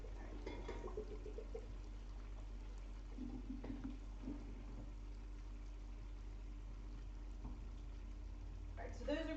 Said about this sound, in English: So let me just grab this and drain our pasta.